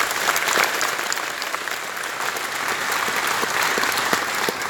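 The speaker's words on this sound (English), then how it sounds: "So let's give every one of them a round of applause." A conference audience at an open source event applauds the people who helped build the program. The clapping is moderately loud and fairly dense and continues evenly for several seconds. No voices can be heard over it.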